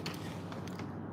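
A bed-and-breakfast door creaks open in one drawn-out, grinding groan of dry hinges, close by and alone with no talking.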